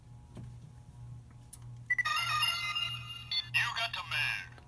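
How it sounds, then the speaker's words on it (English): A DX Faizphone X toy phone from Kamen Rider Zi-O plays a bright electronic ringtone of layered, shifting beeping tones. The ringtone begins after a quiet stretch with a low steady hum beneath, and a person talks alongside it. "So you got the ringtone"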